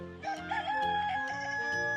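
A rooster crows loudly and close by on a chicken farm in spring, one drawn-out cock-a-doodle-doo call with strong harmonics.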